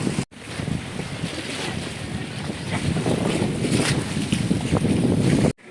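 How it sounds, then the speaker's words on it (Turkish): Steady wind rushing across a microphone with sea waves washing and surging underneath, loud and continuous throughout, on the seafront at Mudanya, Bursa. "Şu an deniz çok güzel. Böyle rüzgarlı tabii doğal olarak."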